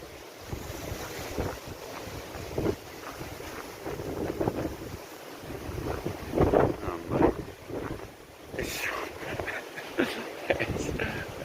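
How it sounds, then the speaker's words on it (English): Wind blows hard off the Norfolk cliffs over a rough sea with surf, a steady broadband roar with gusts and buffeting on the microphone, and voices talk over it now and then. "the wind coming off the Norfolk cliffs, that'll make short work of me"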